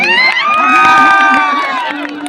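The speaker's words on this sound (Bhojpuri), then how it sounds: "एक बार ताली हो जाएगा भाई," Loud crowd cheering at a Bhojpuri stage show in India, with bright whoops and sweeping shouted calls that rise and fall close to the listener.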